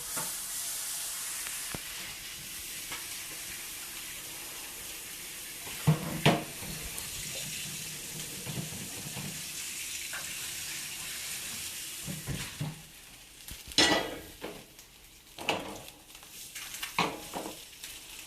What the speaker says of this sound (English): Cleaning the pan as we go.